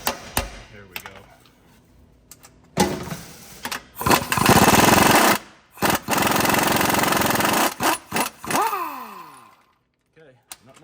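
A wrench or impact tool works a lug nut off the wheel hub of a Ford Super Duty during a wheel bearing job, with loud, close bursts of whirring and clanking interrupted by short pauses.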